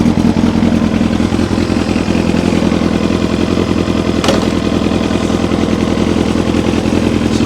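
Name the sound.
Kawasaki ZX7R motorcycle engine running in first gear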